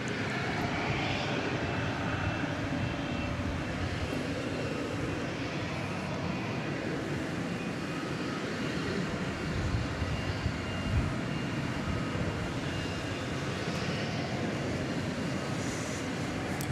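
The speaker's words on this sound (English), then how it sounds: "I think we have an imminent UPS departure" A UPS cargo jet departs DFW Airport at night, its engines a broad, steady roar with no clear rise or fall, held throughout the clip and heard from a distance without any talk.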